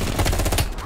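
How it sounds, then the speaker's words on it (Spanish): M16 rifle firing in Call of Duty Cold War, a rapid loud burst of shots in quick succession, close and dense. "Al ver un tiroteo, preparaste tu M16."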